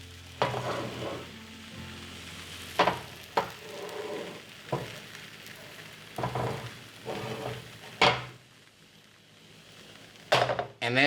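Crepe batter cooks in butter in a crepe pan, with a gentle sizzle broken by metallic clanks and knocks as the pan is lifted, swirled and set back down.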